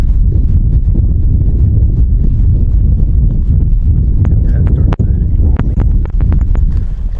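A horse trots in an outdoor arena with a steady run of close hoof beats under heavy wind noise buffeting the microphone, followed by several sharp, distinct clops near the end.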